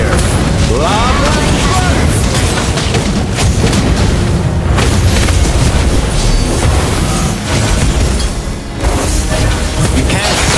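Valir's Lava Burst skill from the mobile game Mobile Legends: Bang Bang erupts as a dense, roaring fiery blast, loud and continuous throughout with rumbling booms layered under game effects and voiced lines.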